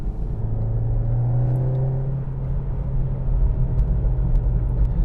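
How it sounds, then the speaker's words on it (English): A 2019 VW Golf R with BDT Stage 2 tune and valved exhaust rumbles steadily at close range in comfort mode, a low droning exhaust note that swells slightly toward the end. "I love the valved exhaust in this car."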